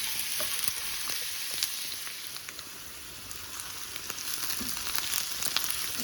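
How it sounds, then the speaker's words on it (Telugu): Onions fry in a pan for a Telugu eggplant and cilantro curry, a steady close sizzle and crackle with occasional stirring clicks and scrapes, no voices. "ఉల్లిపాయలు వేసుకుని వేపుకోవాలి. కొంచెం లైట్గా కలర్ మారేంత వరకు వేపుకోవాలి."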